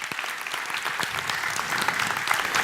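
A church audience breaking into steady applause, many hands clapping in a dense, continuous patter that swells slightly toward the end, loud and near.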